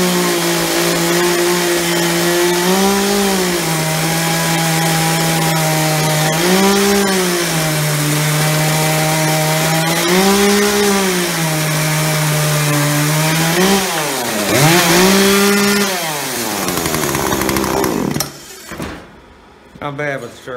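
A Poulan chainsaw roars steadily nearby, its engine pitch rising and dipping as it bites through wood, then revving up before cutting off near the end.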